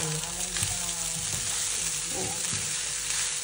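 Hot fried rice stirred in a pan, a steady sizzle running throughout with a few soft scraping strokes of the utensil against the pan, close and even, with no talking.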